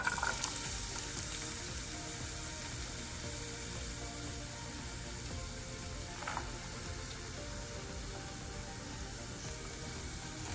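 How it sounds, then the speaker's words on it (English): Chopped onion, one small one, frying in hot oil for an aloo keema, a steady dense sizzle and crackle that holds at an even level throughout with no talking. "So the oil has heated now, and I'm going to add the chopped onions."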